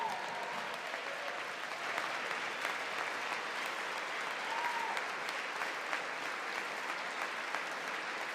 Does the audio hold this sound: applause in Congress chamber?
yes